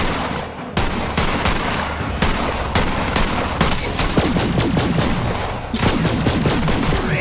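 Firehawk gun firing in Borderlands 3, loud rapid repeated shots in clustered bursts, close and continuous, with no talk.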